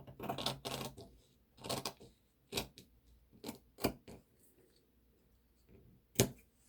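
Scissors snipping through flattened fabric, a series of separate crisp cuts in uneven rhythm, close and quiet, with no voices.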